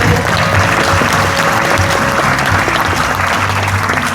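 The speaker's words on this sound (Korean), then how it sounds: "큰 박수 부탁드립니다" A crowd applauds at a football club introduction event as a coach is presented. The clapping is loud, dense and steady for the whole stretch, with no break.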